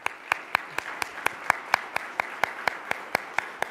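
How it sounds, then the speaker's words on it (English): At a banking forum, sparse audience applause honours the sponsors: a few nearby hands clap in an even, steady rhythm of distinct crisp claps over a quiet room murmur. "Let's give them a round of applause"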